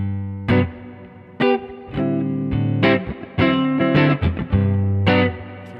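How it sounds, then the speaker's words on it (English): Electric guitar played through the Neural DSP John Mayer amp plugin with spring reverb engaged: a run of distorted picked notes and chords, each attack trailing a splashy, washy reverb tail, loud and alone. "Turn it back on for the spring reverb."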